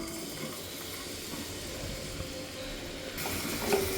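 Onions dropped into hot oil in a pan on a stove give a steady broadband sizzle and hiss that grows louder and brighter in the last second, with no talking.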